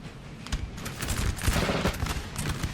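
Rapid musket volleys crackle from massed infantry in Napoleon Total War at Talavera, a dense, continuous rattle of overlapping shots with sharper bursts standing out.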